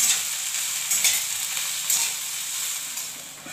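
Okra frying in oil with tomato, garlic and cumin, giving a steady loud close sizzle with a few brief stirring scrapes.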